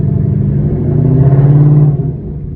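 Ford Mustang 5.0 V8 with a newly installed exhaust revs on a wet residential street, a deep steady rumble that swells through a rising rev and settles back, loud and close with no talking.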